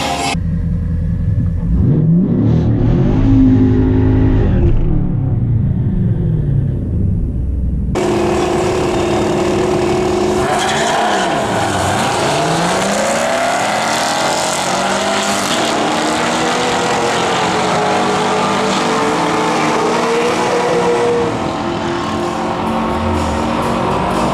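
A Camaro ZL1 and a 392 drag race at a strip, loud engines droning and revving hard with rising and falling pitch sweeps as they launch and pull away, a continuous roar throughout with no speech.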